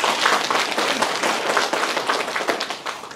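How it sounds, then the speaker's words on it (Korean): An audience at a county government briefing on Geumsan ginseng plans claps together, a dense, lively patter of many hands with some rhythmic peaks, steady throughout. "잘 될 수 있도록 박수를 쳐주세요."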